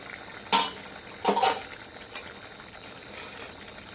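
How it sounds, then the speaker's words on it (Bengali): Ridge gourd with lentils being stirred in a cooking pot, a few brief clinks and scrapes of a spoon against the metal, then quieter handling, with no talk. "এবার আমি ভালো করে নাড়াচাড়া করে সামান্য পরিমাণ জল দিয়ে দেবো।"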